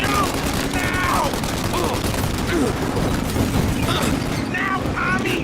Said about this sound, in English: Shoot now while we got the chance! Now! Shoot the gun!